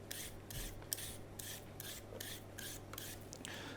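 Carrots being peeled in a kitchen, heard as a close, quiet run of rhythmic rasping strokes, about eight even scrapes, over a faint steady hum.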